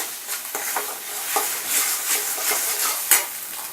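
Egg bhurji stirred continuously in a hot pan, a steady frying sizzle with repeated scraping strokes of a spatula close up, no voices.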